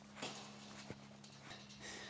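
Hooves of a mule led out through a pasture gate, a few soft clip-clop steps on ground with a snort-like puff, moderately near over steady outdoor background.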